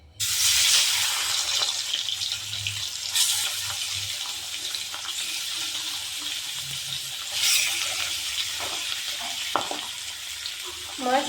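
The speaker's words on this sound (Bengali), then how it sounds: "মাছ দিয়ে দিচ্ছি।" Salted, turmeric-coated fish fries in oil in a wok with a loud, continuous sizzle that flares sharply at the start and swells again midway, with small clatters near the end.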